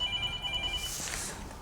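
A home telephone rings with a steady electronic trill in a family house, moderately loud and alone, cutting off partway as a brief rustle follows.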